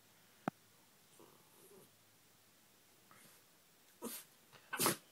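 A small dog gives a few short, sharp sneezes and snorts, the loudest two near the end, close and quiet between them, with a brief click early on.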